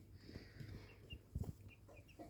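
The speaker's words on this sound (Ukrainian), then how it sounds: "Ну, такі гарні курчатка." Soft high chirps and cheeps from young chickens hatched in an incubator, scattered and intermittent over a low background rumble, fairly close.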